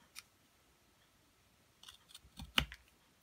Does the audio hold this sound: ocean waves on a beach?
no